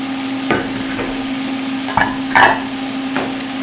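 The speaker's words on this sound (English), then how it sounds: "Now I'm going to add the ackee." Ackee goes into a pan with fresh garden vegetables for a Jamaican ital dish and is stirred, a few distinct scraping strokes over a soft sizzle and a steady low hum, close, with no talk.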